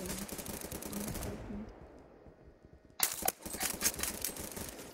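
Enemy gunfire in a video game, a burst of rapid shots at the start, a quieter gap, then a loud sharp volley of clattering shots close by.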